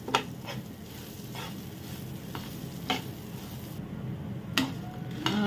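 Onion and green chilli frying in a pan, a soft continuous sizzle punctuated by a handful of crisp spatula taps and scrapes against the metal, close and fairly quiet.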